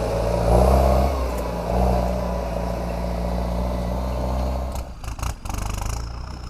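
A turbocharged Kubota M7040 tractor diesel engine drones steadily under heavy pushing load, low and chugging, with some clattering and rattling toward the end.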